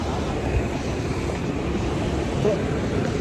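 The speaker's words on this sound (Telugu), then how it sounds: "వేవ్స్ అసలు గట్టిగా వస్తున్నాయి, మంచి గాలి" Strong sea waves and steady wind on a beach form a dense, unbroken roar, with gusts buffeting the microphone throughout.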